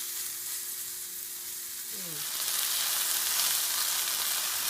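Beef browning in a pan, heard as a frying hiss that swells to a steady, fairly loud sizzle partway through, with a brief voiced sound just before it rises.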